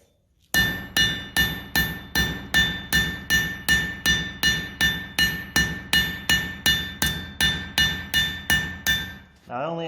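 A blacksmith's hammer strikes hot metal on an anvil at a museum hammer-in event, some twenty evenly spaced ringing blows in a steady rhythm, loud and close, each with a bright metallic ring.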